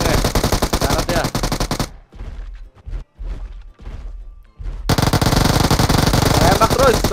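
Rapid M4 rifle gunfire in the battle-royale game PUBG, loud dense bursts at the start and end with a quieter gap of scattered single shots between.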